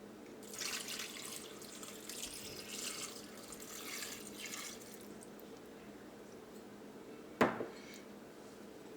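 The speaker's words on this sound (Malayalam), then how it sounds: "നമുക്ക് ബീഫ് വേവാൻ ആവശ്യത്തിന് വെള്ളം ചേർക്കാം." Water poured into a cooking pot of beef being prepared with raw banana, a soft splashing wash for several seconds that fades, followed by a single sharp clink near the end, quiet and without voices.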